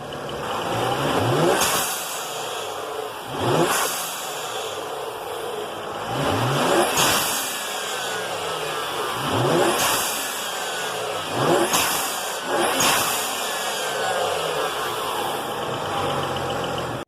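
BMW N54 engine with an HKS blow-off valve revving repeatedly in bursts about every two seconds, each rise followed by a falling whoosh, loud and close with no talking.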